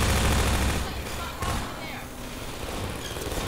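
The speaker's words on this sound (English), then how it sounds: "these turrets are actually fairly useful" Automated turrets in Half-Life 2 fire rapid continuous bursts, a loud dense rattle that eases slightly then keeps going, with combat noise and voices mixed in.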